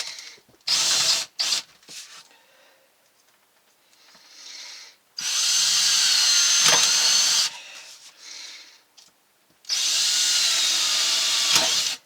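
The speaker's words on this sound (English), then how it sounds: "Just need to drill those holes for the toilet." A power drill whirs loudly in several sustained bursts, drilling holes to refit a pump-out toilet on a boat, with short pauses and lighter handling noises between them, close by.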